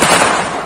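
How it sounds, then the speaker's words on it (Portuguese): A brief, loud burst of gunfire during a live radio broadcast in Brazil, a dense crackling blast that fills the whole short moment without a break. "Parou, mas agora os tiros aí. Muito tiro mesmo."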